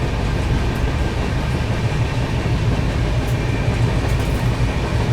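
A Duronto Express passenger train running on the tracks toward Kota, heard from on board as a steady, loud rolling rumble with a constant low roar and faint rhythmic rail clatter throughout.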